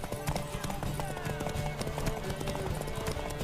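Horse hooves clip-clopping in The Witcher 3 at a steady trot, mixed under game music and a voice, moderately loud and continuous.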